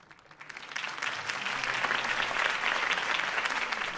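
Crowd applause in a Batman video game after Harvey Dent's campaign speech, a dense wash of clapping that swells and holds steady, fairly loud, with no voices over it.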